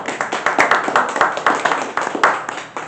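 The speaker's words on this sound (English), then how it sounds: "let's give a warm round of applause for our candidate, John Ricottone." Audience applause at a Brooklyn Tea Party meeting welcoming an Assembly candidate, a steady patter of many hands clapping close by with a few sharper claps, sustained for the whole stretch.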